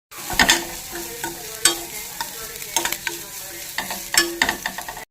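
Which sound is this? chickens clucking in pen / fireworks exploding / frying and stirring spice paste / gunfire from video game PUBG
frying and stirring spice paste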